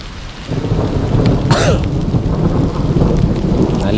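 A mountain thunderstorm on a trek, with heavy rain and hailstones pelting down, a loud continuous roar of rain and a sharp nearby thunder crack partway through, no talk.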